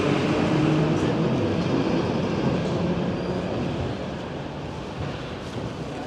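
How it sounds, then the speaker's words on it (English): An old trolleybus or tram passes along a street in Prague, giving a steady rolling rumble with faint wheel squeal that stays loud and close before easing slightly toward the end. "We've got the old trolley bus tram."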